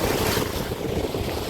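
Surf rolls in at a beach in Cavite, a continuous close wash of waves mixed with gusty wind buffeting the microphone.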